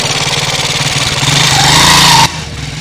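Motorcycle engine idling up close, a loud, rapid pulsing putter that rises slightly in pitch, then cuts sharply to a quieter tone near the end.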